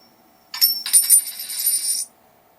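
A coin-toss sound effect played back by a Python program: one clear metallic clink and jingle of a coin landing, lasting about a second and a half, close and alone against silence.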